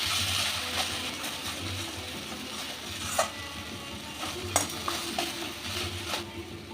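Fish cooking in mustard oil is stirred in a covered pan, a low steady simmering sizzle with occasional sharp utensil clicks and scrapes against the pan.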